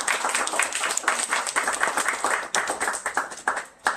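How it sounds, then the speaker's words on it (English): Audience applause at an L.A. book launch reading, a steady wash of many hands clapping at moderate volume for about four seconds, with a few louder individual claps standing out near the end. "one more round of applause for Myriam."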